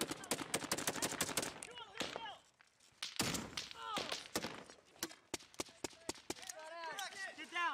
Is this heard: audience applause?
no